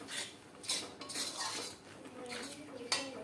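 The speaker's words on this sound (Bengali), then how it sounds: "মশলাটাকে আমি এখন ভালো করে কষাচ্ছি" Spice masala with chilli and turmeric being stirred and fried in a pan for masala chicken; quiet, irregular spatula scrapes and light metallic clinks against the pan come in short bursts over a soft sizzle.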